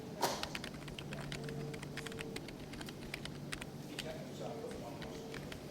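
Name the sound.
typing on a computer keyboard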